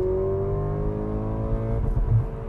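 A Porsche Macan T engine held against its rev limiter, a loud steady high-rpm drone with layered harmonics that stutters and bounces near the end, close up and alone with no talk.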